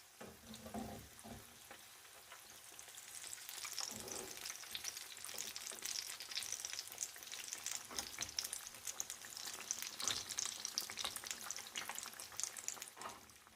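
Zucchini bites fry in a pan over medium heat, giving a steady, close crackling sizzle that runs the whole time, with a few louder spits and stirring bursts.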